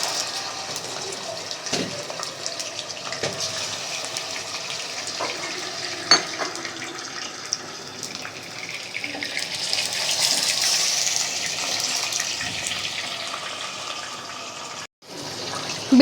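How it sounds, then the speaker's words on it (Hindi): Chicken frying in oil over a low flame, a continuous soft hiss and bubbling sizzle with occasional light clicks, steady and close, briefly cut near the end, no talking. "बिल्कुल इसको हम हल्की आंच पे फ्राई करेंगे, आंच हम तेज़ नहीं करेंगे।"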